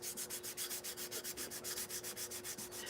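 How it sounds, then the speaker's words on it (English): Sandpaper rubbed back and forth over painted paper model parts, a steady rhythmic scratching of roughly a dozen even strokes, close and fairly quiet with no talk. "you have to sand the paint. Otherwise, the glue will not stick."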